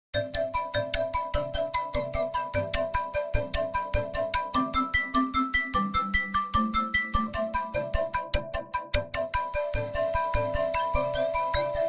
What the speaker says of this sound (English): some more classic presets, like this Liquid Crystals Pluck preset